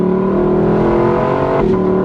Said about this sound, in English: the sound of the exhaust with this convertible top open is nuts